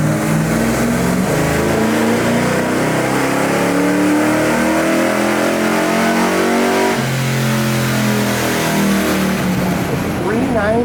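A cammed 454SS big block Chevy V8 revs hard on a dyno, loud and close, its pitch climbing and falling through repeated pulls with a rough, choppy idle character while people talk over it.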